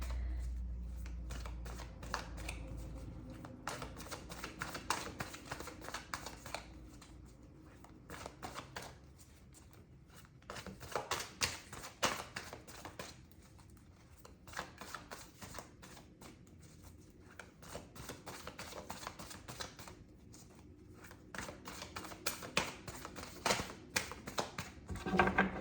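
Tarot cards being shuffled and pulled by hand close up: dense bursts of rapid papery clicks and riffles, broken by a few short pauses, with no voices.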